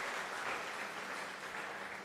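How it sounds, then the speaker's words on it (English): Audience at a hydrogen metallurgy symposium applauds a presenter, a steady, dense wash of many hands clapping together at moderate volume throughout. "let's give another big applause for Professor Zulfiadi Zulhan"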